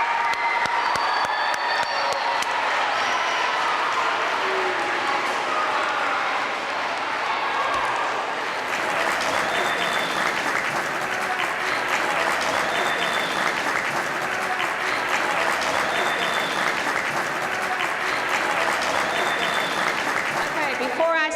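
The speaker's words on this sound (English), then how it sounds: "let's give them a big round of applause" A middle school audience at a 6th and 7th grade awards ceremony bursts into loud, sustained applause that fills the room, with crowd voices and cheering mixed in, holding steady throughout.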